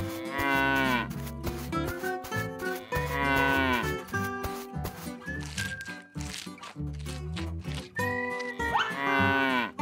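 Cattle in a toy farm diorama scene moo loudly in several long, drawn-out calls, with shorter lowing and clatter in the gaps.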